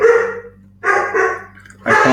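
A dog barks three times indoors, loud and close, with short pauses between each sharp bark.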